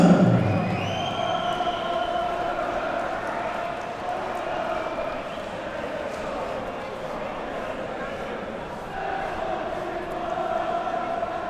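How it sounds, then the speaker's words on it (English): A crowd applauds and cheers after a professional boxing bout at Victoria Warehouse, a sustained broad roar of clapping under a loud announcer's voice that carries on throughout. "Keep that round of applause going, everybody, please, ladies and gentlemen."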